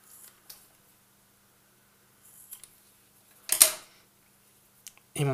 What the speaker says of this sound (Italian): I palloncini vanno tagliati e